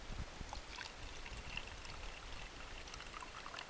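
Water poured into a bowl of cornstarch to mix a non-Newtonian fluid, a steady soft trickling pour heard close and alone throughout, with no talking.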